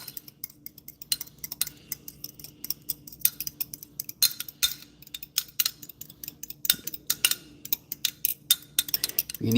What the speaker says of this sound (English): Well, actually, we'll use a fork today. And then we'll fry up an egg together. So you just whisk that up.